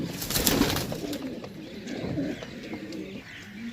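Pigeons coo in repeated low, rounded pulses at close range, with a few brief chirps mixed in over a light, steady background hum.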